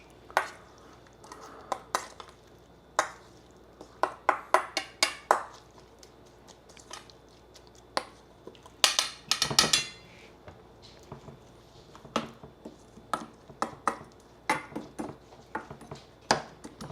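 Food is stirred in a hot pan while cooking flat iron steak, with repeated clanks and scrapes of a utensil against metal cookware in uneven bursts, close and fairly loud with no voices.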